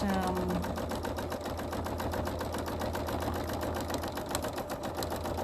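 Sewing machine quilting, a rapid even run of stitching that carries on continuously at close range, with a brief tone near the start.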